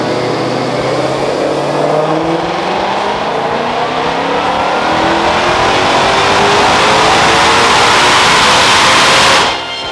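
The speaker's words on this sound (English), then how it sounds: "Let's go ahead and run it on the dyno again and see what kind of horsepower we gained from doing this upgrade package." A 2022 Shelby GT500 runs on a dyno, its engine roaring loud and close in one long sustained pull that climbs steadily in pitch before cutting off abruptly at the end.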